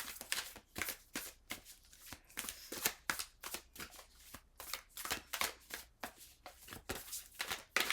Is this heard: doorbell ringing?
no